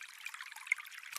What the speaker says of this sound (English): Do you hear it? Water falling.